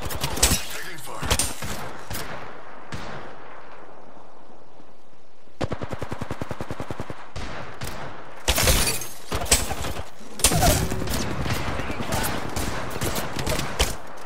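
Video game gunfire rattles in rapid automatic bursts, with loud clustered shots, a steady machine-gun run in the middle and sharp breaking, shattering impacts, broken by short quieter gaps.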